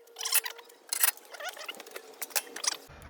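Screws being driven into wall plugs while fitting a window make short clicking, ratcheting bursts in quick irregular runs, fairly close and crisp, with a faint steady hum underneath.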